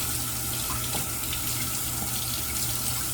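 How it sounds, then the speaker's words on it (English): Steady broadband rush of a tap running into a sink to wet and warm a shaving razor, close and continuous throughout, with no voices. "let's get the razor wet and warm."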